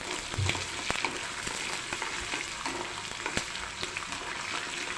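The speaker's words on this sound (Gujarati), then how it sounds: "થોડા લીલા વટાણા લીધેલા છે તે એડ કરી દઈએ" Green peas tipped into a hot pan of oil with chopped onion for semolina upma give a steady close sizzle and frying crackle, with a few sharp stirring clicks and pops over about five seconds, no voices.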